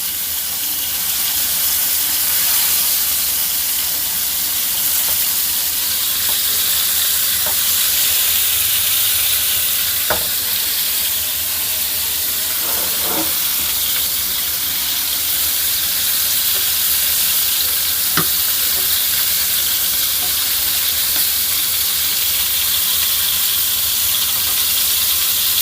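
Bitter melon stuffed with shrimp and minced pork pan-fries in oil with a loud, continuous sizzle and hiss, marked by a few sharp clicks from the pan.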